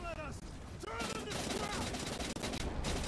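Dense, continuous gunfire and explosions in the flying combat game Archangel, rapid bursts under excited shouted voices.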